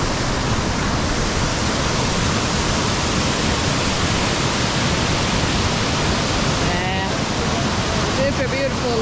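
A powerful Amazon waterfall near Manaus roars as a steady, loud, broadband rush that fills the whole stretch without pause, with a faint whistle-like tone briefly surfacing near the end.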